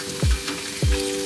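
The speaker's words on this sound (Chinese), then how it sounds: "豆腐煎好了" Frozen tofu sizzles in a pan at a windy campsite, a steady crackle broken by two soft thuds, with no talk heard.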